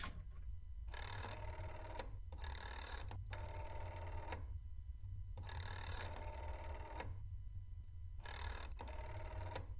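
A telephone rings in a regular repeating double-burst pattern, four rings across the span, steady and fairly loud over a low constant hum, with no talking.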